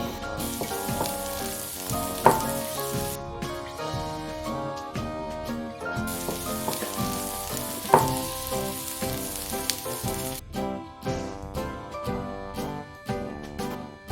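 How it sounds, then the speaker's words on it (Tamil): French fries deep fry in hot oil over a high flame, giving a dense, continuous close-up sizzle and crackle with occasional stirring clinks and scrapes, and no talk. "லோ ஃப்ளேம்ல பொரிச்சு எடுத்தாச்சு இப்போ ஹை ஃப்ளேம்ல பொரிச்சு"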